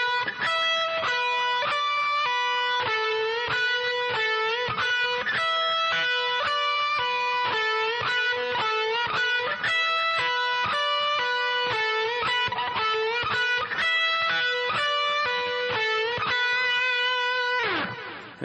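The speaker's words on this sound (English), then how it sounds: "We put those 8 notes together. Sounds like this." Electric guitar plays a metal lick, an eight-note phrase repeated over and over as a steady, rapid stream of picked distorted notes, close and constant for the whole stretch, no voices.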